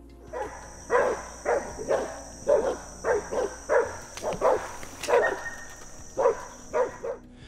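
Hunting dogs bark repeatedly in quick succession during a wild boar hunt, loud and close, with a faint high whine running underneath.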